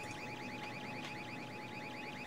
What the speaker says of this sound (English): An alarm going off.